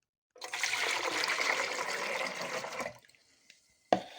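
Descaler solution and water poured into the water tank of a Tassimo coffee maker, a steady close splashing gush for a couple of seconds, then silence and a sharp clunk of the container.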